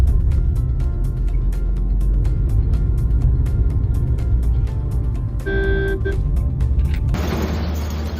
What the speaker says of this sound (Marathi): मिलिटरीच्या गाड्या पास होत आहेत